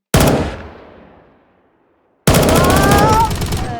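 Loud gunfire from a video game: a sharp close shot with a decaying tail, then after a silent gap another burst of heavy firing with a faint tone ringing through it.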